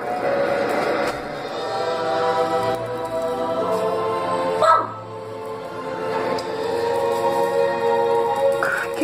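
A dog barks and yips in short bursts over a steady background hum, with faint voices nearby.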